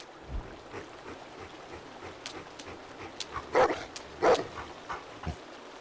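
A dog in The Walking Dead video game gives a few short barks, yips and whimpers, fairly faint over a quiet, noisy background. Two louder yelps come in close succession midway, and no one speaks.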